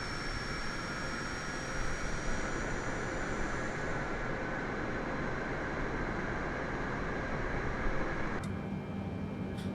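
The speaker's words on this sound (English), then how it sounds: "Engines 1 and 4 are now stabilized." Steady, loud jet engine roar from a Boeing 747 freighter in Microsoft Flight Simulator 2020, with engines 1 and 4 spooled up after pushback, a broad continuous rumble and whine holding level throughout with a faint high tone.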